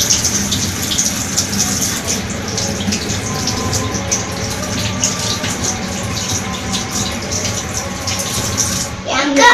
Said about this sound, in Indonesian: selalu mencuci tangan menggunakan sabun dan air mengalir.